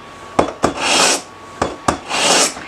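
A kitchen knife is sharpened in quick close strokes, each starting with a sharp metallic tick and then a rasping scrape, in two pairs of passes.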